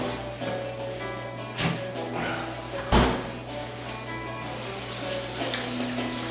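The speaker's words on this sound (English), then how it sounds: "bacon's cooking." Bacon fries in a pan with a steady sizzle running underneath, interrupted by a few louder knocks and clatter of kitchen handling, and a running-water wash sound toward the end.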